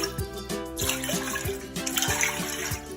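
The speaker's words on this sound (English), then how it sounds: "To make your syrup, you're gonna need 3 cups of water" Water runs into a pot to make brown sugar boba syrup for bubble tea, a steady trickling pour with small rhythmic taps throughout, close and moderately loud.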